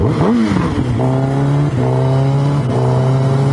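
A car engine revs hard in a loud, close rev bomb, the pitch swooping up and down several times before settling into a steady, droning idle, with no talking over it.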